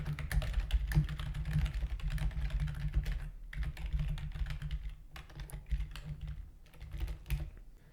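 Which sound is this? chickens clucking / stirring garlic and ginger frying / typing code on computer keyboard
typing code on computer keyboard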